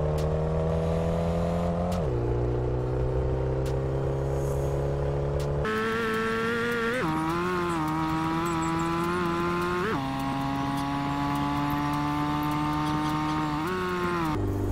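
Engine of a car in Street Legal Racing Redline, a video game with manual transmission, drones steadily and loudly, its pitch dropping and rising with several distinct gear shifts and throttle changes, alone without talk.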